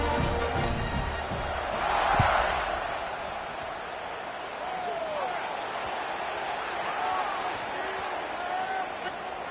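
Crowd noise fills a college football stadium during a kickoff, a steady roar with a brief swell of cheering early on, under continuous commentary.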